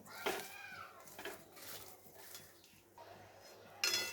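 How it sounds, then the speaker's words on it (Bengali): Ground lentil paste for dhokar dalna, seasoned with asafoetida, is stirred in a pan with a utensil, giving a few quiet, scattered scrapes and clinks at irregular intervals, with no voices. "এখন বেটে রাখা ডালগুলো দিয়ে ভালোভাবে একটু নেড়ে চেড়ে নেব।"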